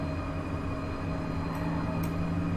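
Train running in the Train Sim World 3 video game, a steady low rumbling drone with a faint tonal whine, continuous and even throughout with no talk.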